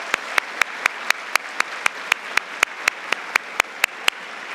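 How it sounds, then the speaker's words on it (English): A sparse school assembly audience applauding faculty and staff for their years of service at a secondary awards ceremony, with a few distinct, evenly spaced loud claps over a softer scattered patter. "Let's give them a round of applause."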